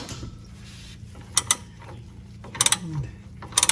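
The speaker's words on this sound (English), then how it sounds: "let me see if I can get a wrench on them here, just tucked under the sway bar" A ratchet wrench clicks on the 15 mm transmission mount bolts of a Porsche Boxster 986, tucked under the sway bar, in short close bursts of rapid ratcheting separated by quiet pauses.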